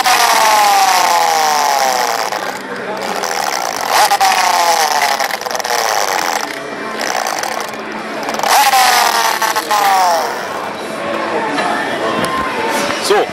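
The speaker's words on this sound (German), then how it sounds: "Ein bisschen ausspannen mit dem KTM-Motoren-Soundgenerator." A KTM motorcycle engine sound generator plays revs that rise and fall repeatedly, loud and close, with sweeping pitch climbs like throttle blips, in several bursts.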